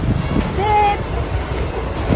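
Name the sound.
riding a train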